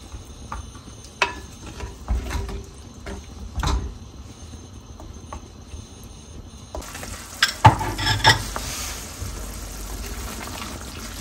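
Steady sizzling of chicken and onion sautéing in a pan as puréed tomato is added, with occasional scraping and stirring clatter, the frying growing brighter partway through.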